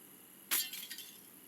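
Window glass shatters in the Hello Neighbor video game: one sharp crash followed by a few tinkling fragments settling, faint background hum, no talk.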